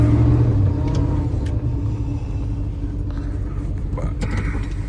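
An abandoned big-block Chevy, running with a worn-out clutch and transmission, gives off a loud, deep, steady engine rumble from close by while the car drives along a road, with no pauses.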